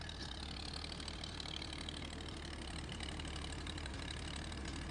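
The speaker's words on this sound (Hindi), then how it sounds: "ये देखें जी, ये ट्रैक्टर आ रहा है जी, ये खुद ही आ रहा है, कोई इसके ऊपर ड्राइवर नहीं है," A driverless tractor engine runs with a steady, faint diesel chug and knock, holding an even level throughout with no voices.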